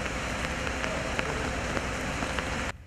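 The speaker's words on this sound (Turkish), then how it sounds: "İstanbul'da etkili olan sağanak yağış ve fırtına nedeniyle bazı bölgelerde su baskınları" Heavy downpour during a stormy day in Istanbul, a dense steady hiss of rain pounding surfaces that fills the whole clip, then cuts off abruptly near the end.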